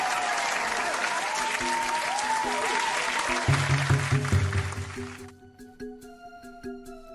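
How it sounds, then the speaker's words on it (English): Crowd cheering and applause from the Zelda: Spirit Tracks video game, a dense steady wash that fills the first five seconds before cutting off, followed by game music and effects. "Oh, I hear you cheering now."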